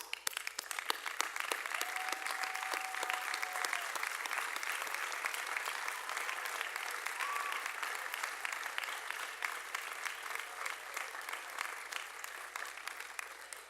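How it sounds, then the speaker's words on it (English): Sustained applause from a crowd at a 2017 commencement main ceremony, as graduates stand and clap for their families and friends; steady, dense clapping holds throughout, with a faint whistle-like tone early on. "give them your applause and thanks"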